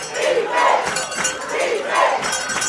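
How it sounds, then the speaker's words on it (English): A high school football crowd roars steadily at the Community Stadium, a far, washed-out wall of cheering with rhythmic swells, heard on a radio broadcast. "Listen to the Community Stadium crowd."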